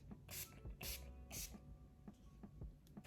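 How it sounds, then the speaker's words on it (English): Urban Decay All-Nighter setting spray, then Urban Decay De-Slick, misted from pump bottles: three sharp, close hissing bursts evenly spaced, followed by softer fainter spritzes and small clicks. "I'm gonna spray a combination of the two All-Nighter Setting Spray by Urban Decay and the Deslick by Urban Decay"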